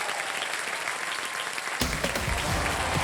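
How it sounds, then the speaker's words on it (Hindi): Studio audience on a Wheel of Fortune game show clapping, a steady wash of applause that swells louder partway through and continues to the end. "जोरदार तालियां इन कपल के लिए, जोरदार तालियां।"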